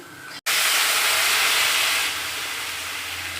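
Water poured into a pan of frying potatoes and chillies bursts into a loud, sustained hiss of sizzling steam that stays strong and then eases slightly.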